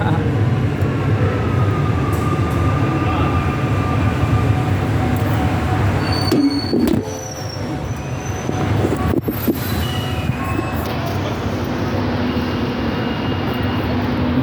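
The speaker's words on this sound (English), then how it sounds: "That's the train." A train rumbles past nearby, a steady heavy roar with squeals and clanks along the wheels, lasting throughout at high volume.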